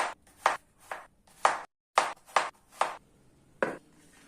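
Knife slicing cucumbers on a cutting board, a series of about eight sharp, close chops in an uneven rhythm with short pauses between cuts, heard alone without talk.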